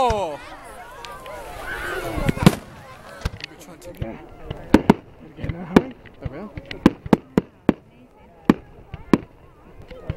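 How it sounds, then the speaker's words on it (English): Bonfire Night fireworks burst in sharp, loud bangs and crackles, scattered irregularly and coming faster toward the end, while people cheer and talk nearby. "hey, fireworks, baby"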